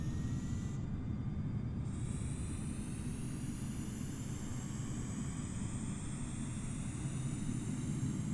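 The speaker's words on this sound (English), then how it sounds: "APU start. We can wait for that to start." Auxiliary power unit of an Airbus A320neo spooling up in Microsoft Flight Simulator 2020, a steady low roar with a rising whine climbing gradually over several seconds, heard alone without talk.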